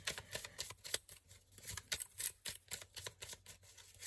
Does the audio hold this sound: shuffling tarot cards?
yes